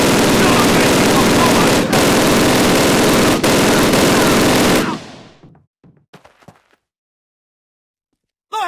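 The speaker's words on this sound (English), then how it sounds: "Open fire! Fire!" Loud, dense battlefield gunfire from a Call of Duty Red Square mission, rapid overlapping machine-gun and rifle bursts for about five seconds, then cutting to near silence with scattered faint noises and a brief burst at the end.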